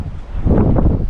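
Steady wind buffeting a microphone during an outdoor run, a low rumbling roar that swells louder in the second half, with no voices.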